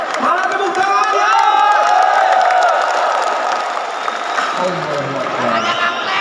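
An audience at a live concert celebrating an anniversary and Halal Bi Halal gathering claps, cheers and whoops steadily throughout, loud and close, with voices shouting over the crowd noise.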